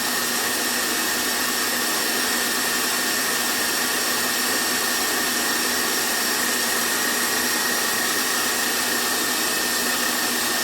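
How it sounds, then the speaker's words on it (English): An electric kitchen machine churns cream into homemade butter, giving a steady, continuous whirring drone that holds at an even loudness throughout, with no talking. "I will be stopping the machine for just a little bit, just so I can get all the bits on the side"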